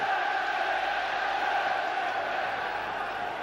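Football stadium crowd at a 1996 Champions League match between Manchester United and Fenerbahce, a steady roaring murmur of thousands of spectators, loud and continuous throughout with no break.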